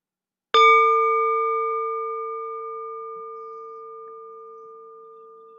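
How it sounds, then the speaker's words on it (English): A single ceremonial bell struck once at the close of a church service, ringing out clear and close with a long, slowly fading sustained tone and no talking. "I sound the bell and extinguish the chalice"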